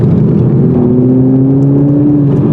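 A 2021 Toyota Supra's four-cylinder engine is revved hard toward 4,000 to 5,000 RPM, a loud, continuous, rising drone heard from close by with no talking.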